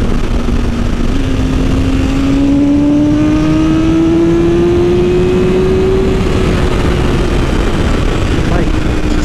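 A 2020 BMW S1000RR M superbike at full throttle with its rev limit unlocked, engine pitch climbing steadily through the RPM range in one loud sustained pull, heavy wind roar over everything.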